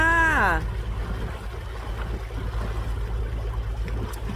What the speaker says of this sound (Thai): ล่องเรือใน แม่น้ำที่เยอรมนีค่ะ